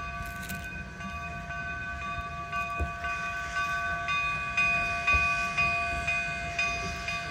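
Cumbres & Toltec scenic railroad steam engine idling at a station, a steady mechanical hum with sustained whistle-like tones and occasional clanks, fairly close and continuous.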